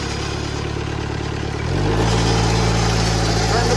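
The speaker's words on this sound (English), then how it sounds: "we got this diesel fired up. Let's go ahead and give it just a little bit of throttle." Diesel engine on a TimberKing 6000 sawmill idling steadily, then stepping up to a louder, deeper running note as the throttle is opened a little, continuous and close with no talk.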